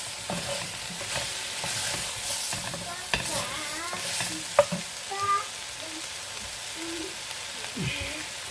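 Food sizzles and crackles in a frying pan while it is stirred and flipped during home cooking of a French potée auvergnate with cabbage. The steady frying hiss carries through with a few sharp clanks, and there is light talk now and then.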